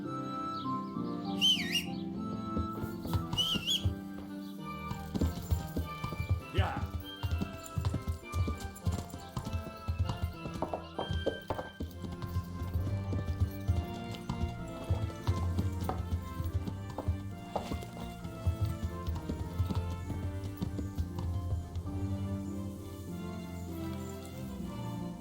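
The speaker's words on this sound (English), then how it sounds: "Deixa eu chamar o cavalo aqui." A horse in Kingdom Come: Deliverance trots up after being called, its hooves clip-clopping in a steady rhythm for the whole stretch, with a whistle at the start and faint birdsong in the background.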